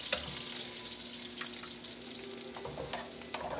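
Shallots, onions and garlic sauté in hot sesame oil in a pan for pancit, giving a steady close sizzle with occasional stirring scrapes.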